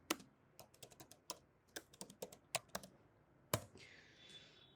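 Someone types on a computer keyboard on a Mac: irregular, quiet clicks in short runs with a few harder key strikes, close up and with no talk.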